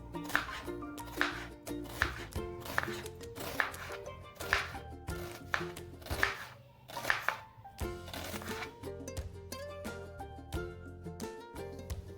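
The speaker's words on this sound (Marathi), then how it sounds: "आपण वाटण बनवण्यासाठी तीन कांदे घेतलेले आहेत आणि त्यांना उभे उभे चिरून घेणार आहोत" Onions are sliced lengthwise with a knife for a chole masala paste, giving a steady run of crisp, evenly spaced chops over background music.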